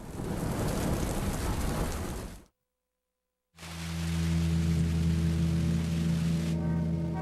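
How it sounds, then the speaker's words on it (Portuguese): Torrential rain pouring down in Rio de Janeiro with thunder, a loud, dense wash of falling water that cuts out briefly, then returns with a deep low rumble beneath it. "Uma chuva torrencial pega de surpresa os moradores do Rio de Janeiro, no Brasil."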